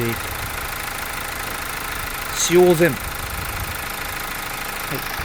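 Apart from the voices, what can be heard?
car engine idling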